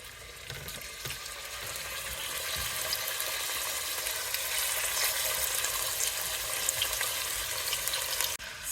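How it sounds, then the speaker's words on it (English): Pieces of goat meat sautéing in oil in a pan over medium-high heat, a steady close hiss and crackle of frying that swells slightly, with one brief knock near the end. "Sautéing beautifully"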